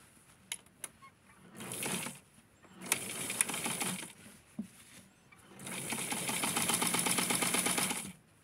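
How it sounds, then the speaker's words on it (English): A sewing machine stitches the fabric of a fully lined Barbie doll coat in several bursts of stitching. There are short pauses and handling clicks between the bursts, then a longer steady run at the end, close and clear. "So now we're going to sew it and turn it inside out."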